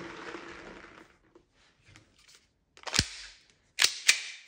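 An airsoft Beretta model pistol firing 0.2 gram BBs on 144A gas through a chronograph, with several sharp, loud cracking shots after quiet handling noises.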